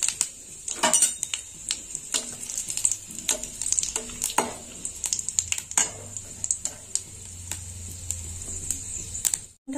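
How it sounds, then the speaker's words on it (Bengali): Two dried red chillies and five-spice seeds frying in hot oil for a potato and kundru dish, crackling and popping in rapid irregular bursts over a high steady hiss, ending abruptly. "ফোড়নটা একটু ভাজা হোক।"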